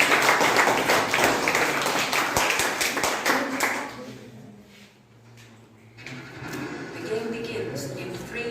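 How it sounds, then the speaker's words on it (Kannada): An audience at a quiz event bursts into dense applause that fades out after a few seconds, followed by quieter room sounds and some talk. "ಚಪ್ಪಾಳೆ."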